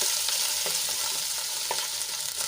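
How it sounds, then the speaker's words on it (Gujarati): Grated ginger sizzles steadily in hot oil while being stirred for Mumbai-style chana chaat, with a few clicking spatula scrapes over the frying hiss and no voices. "આદુને આપણે પંદરથી વીસ સેકન્ડ જેટલું સાંતળવાનું છે"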